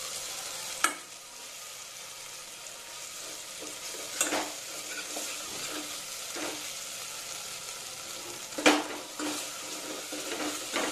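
Masala cooking in oil in a pan, giving a soft, even sizzle with occasional sharp spoon clanks and scraping stirs against the metal, heard up close.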